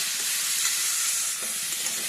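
Radish frying in a pan, a continuous soft hiss of hot oil heard close and steady for a couple of seconds, without speech.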